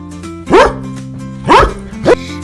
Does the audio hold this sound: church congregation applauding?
no